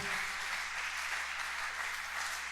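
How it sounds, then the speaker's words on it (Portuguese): A church congregation applauds during an evening worship service, a steady, dense wash of clapping that holds evenly throughout without any voices rising above it. "Quem está feliz com Jesus pode aplaudir Ele mais uma vez"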